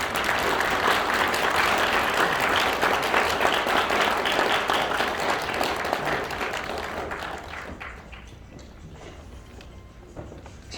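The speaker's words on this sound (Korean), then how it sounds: "여러분 박수를 좀 부탁드립니다" An audience at a hall presentation breaks into sustained applause, a dense, loud roll of clapping that holds steady and then thins and fades toward the end.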